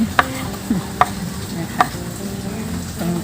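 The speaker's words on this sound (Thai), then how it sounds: "เอาเฉพาะตรงที่นิ่มๆแล้วก็มาหั่น หั่นไปเลยค่ะ" A knife cuts the soft stems of spring onions on a board, giving three sharp, evenly spaced chops close by with faint kitchen background between them.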